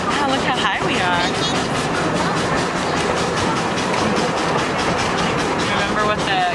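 The Tilden steam train runs with a steady close rumble and rhythmic rail clatter, carrying on continuously at a fairly loud level with no clear pauses.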